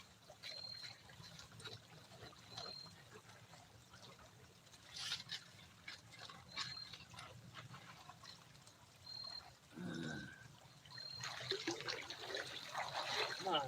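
Water trickling in a gold-bearing creek in Georgia, a soft uneven babble and dribble with small splashes, fairly faint and close, with a louder gurgling patch near the end.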